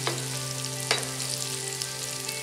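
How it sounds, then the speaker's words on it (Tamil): Okra (ladies finger) frying in oil over a medium flame, a steady close sizzle with soft crackles and one brief clatter near the start and another about a second in. "வெண்டைக்காவை சேர்த்துக்கலாங்க. மீடியம் ஃப்ளேமில் வச்சு நம்ம இதை வறுத்துடலாங்க"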